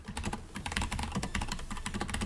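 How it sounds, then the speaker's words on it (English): Rapid typing on a computer keyboard, a dense stream of close, crisp key clicks with an uneven rhythm that runs steadily through the whole stretch, with no voices over it. "I'm saying the things that I'm typing to Tang."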